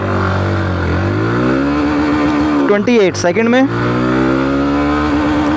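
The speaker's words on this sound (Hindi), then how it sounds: "हीरो ग्लैमर एक्स की टॉप स्पीड टेस्ट करते हैं फर्स्ट गियर से लेके फिफ्थ गियर में।" A Hero Glamour X 125 motorcycle accelerates hard through its gears during a top-speed test, its engine note rising steadily, then dipping sharply at a gear change before climbing again. The engine is loud and close, and a rider talks over it.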